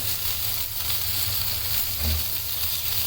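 Chicken pieces frying for a burger, a steady dense sizzle with a brief louder bubbling burst partway through.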